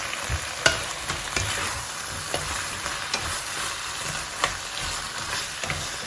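Tomatoes hit a hot pan with potatoes and chard for masala aloo, giving a loud, steady sizzle with repeated stirring scrapes and small knocks throughout.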